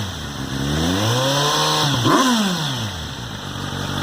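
A 2018 Kawasaki Z900 naked motorcycle with its catalytic converter still fitted, revved up close by: a smooth engine note climbs, peaks sharply and falls back to a steady idle, with no talk over it.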